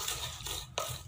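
Nugget batter made with flour and pepper powder is stirred in a bowl, a close, continuous scraping swish in a few quick strokes.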